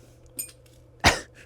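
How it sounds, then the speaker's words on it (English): Hammer taps on an upside-down Mopar engine block in a garage: a faint light tick, then one sharp metallic clink that rings briefly, close and alone. "So I'm going to give it a couple tappy taps and see what happens."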